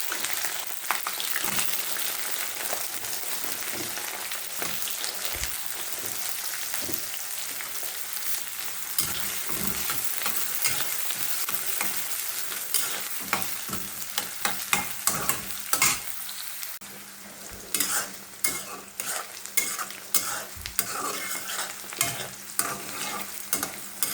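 Chopped onions and two green chilies fry in a pan, a steady close sizzle broken by repeated scraping and clattering stirs of a spatula throughout.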